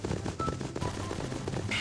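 Gunfire in the sandbox game Garry's Mod on an animatronic horror co-op map, a rapid rattling burst of shots mixed with game noise, continuous and fairly loud for under two seconds.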